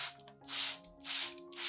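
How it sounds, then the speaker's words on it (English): A spray bottle mists dry onion solution onto orchid leaves in three soft, hissing bursts, close and quiet, with brief pauses between them. "When spraying, be sure to mist both the upper and underside of the leaves"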